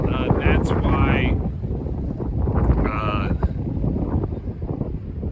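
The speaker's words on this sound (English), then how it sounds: "it seems like it's a pretty brisk wind" Strong wind of around 50 mph on the Mauna Kea summit trail in Hawaii, a steady roaring rumble buffeting the microphone under a person talking.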